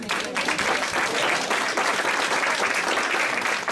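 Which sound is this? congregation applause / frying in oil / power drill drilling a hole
congregation applause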